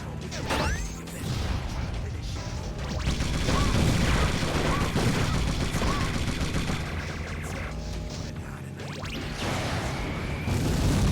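Repeated explosions and gunfire in the vehicular combat video game Twisted Metal 4 form a dense, continuous barrage of blasts and crashes, loud and busy throughout.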